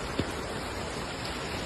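Heavy, nonstop rain falling during a flood, a steady broadband hiss of downpour that stays level throughout, with one brief thump near the start and no talking.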